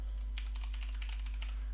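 Computer keyboard typing a layer name in texturing software, a quick burst of clicky keystrokes in an even patter over a steady low electrical hum.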